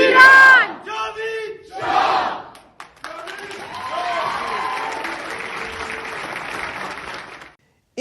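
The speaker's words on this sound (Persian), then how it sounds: "از طرف حضار در صحنه هم تشویق میشه" A crowd in the European Parliament chanting and applauding: loud shouted chant bursts at first, then a sustained wash of clapping and cheering from the audience.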